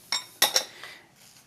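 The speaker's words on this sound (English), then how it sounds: "I'm just going to stir this around." Spoon stirring melted chocolate in a bowl, three sharp clinks of metal against the bowl in quick succession followed by softer scraping taps.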